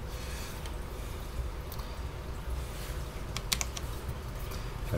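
Quiet, scattered key presses on a Cherry MX 10.0N RGB low-profile mechanical keyboard with speed switches, a few soft clicks over faint room noise.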